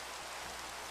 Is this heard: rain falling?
yes